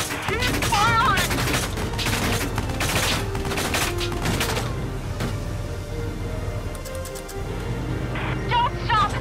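Sustained gunfire from a tactical war video game, Valkyria Chronicles 4, with dense overlapping shots and booms over a loud battle mix of music and effects, while voices call out during the fight.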